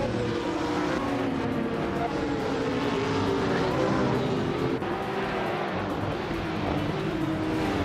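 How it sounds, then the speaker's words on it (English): Race engines of a classic 2003 Porsche 911 GT300 class car and rival cars roar steadily at the start of a race, a dense continuous drone with shifting pitch throughout, loud and close with a brief dip near the end. "Maya is starting from pole position, and she's behind the wheel of a classic 2003 Porsche 911 in the GT 300 class"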